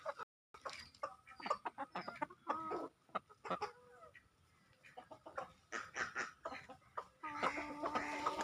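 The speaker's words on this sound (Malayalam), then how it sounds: "നമ്മുടെ അമ്മക്കോഴി ആയിരുന്നു." Mother hen, separated from her chicks, clucking repeatedly in short agitated bursts, close by, with other fowl calling around her in a quiet farmyard.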